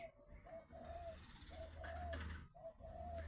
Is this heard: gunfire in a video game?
no